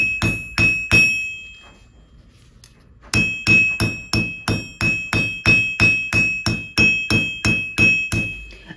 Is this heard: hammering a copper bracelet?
yes